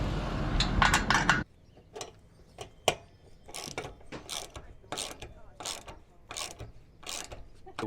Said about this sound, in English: So now we're gonna get these tightened down.